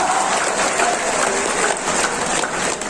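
A seminar audience in a hall bursts into loud, dense applause, a thick, unbroken rush of many hands clapping close together for a few seconds, with no speech over it.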